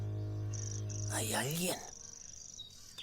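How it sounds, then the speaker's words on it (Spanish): A cricket chirps in a steady high trill that starts, pauses briefly and continues to the end, faint behind a voice that speaks over it midway. "Un grillo"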